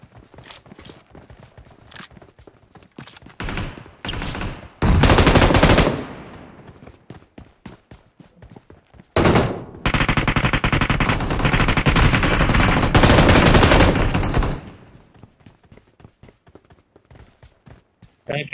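Machine gun fire in the mobile battle royale game PUBG Mobile: bursts of rapid shots ring out loud and close, with long sustained volleys around the middle, between quieter stretches of footsteps and movement sounds.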